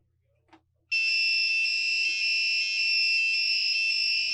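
Elegoo Arduino active buzzer emitting a loud, continuous, piercing high-pitched tone that starts abruptly after a faint click and holds steady without a break, close up.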